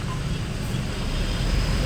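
Steady road traffic rumbles on continuously, a dense low wash of passing vehicles with no distinct horn or voice standing out.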